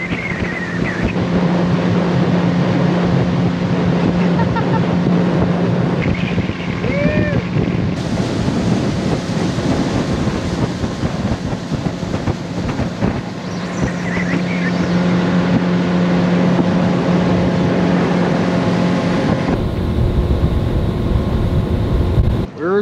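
A boat motor's steady engine drone with a low hum rumbles over rushing water and wind buffeting the microphone in the Alaska mountains, continuous throughout with no talking.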